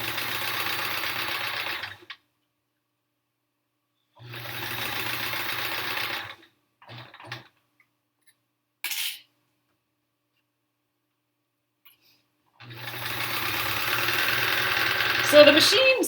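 A sewing machine stitches quilt rows in three bursts of steady, close motor whirring, separated by pauses with small handling clicks and a brief sharp noise.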